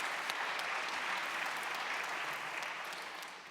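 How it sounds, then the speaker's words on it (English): A large audience at a democracy dialogue event applauds steadily for several seconds. The dense clapping fades slightly toward the end. "a round of applause for Michael."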